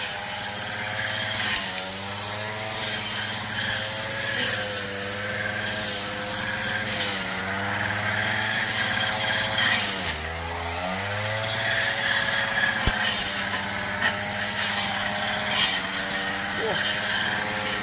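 Grass cutter running close by outdoors near overgrown bamboo, a steady droning motor with wavering pitch held throughout, loud and continuous with only brief dips.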